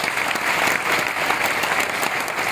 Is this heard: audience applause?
yes